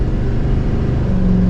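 A 2024 Chevrolet Silverado 2500HD ZR2 pickup truck at full throttle, its engine giving a steady, loud mid-pitched drone from inside the cab.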